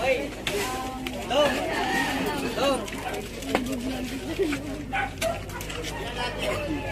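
Pigeons coo in a low, warbling chorus close by, overlaid with constant chatter and voices talking throughout.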